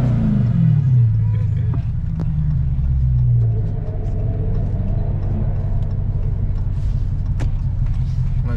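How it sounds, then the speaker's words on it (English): A custom Dodge Charger Hellcat fitted with a Demon supercharger rumbles loud and close, its deep engine note sliding down in pitch before settling into a steady heavy idle. "Can you rev it for me?"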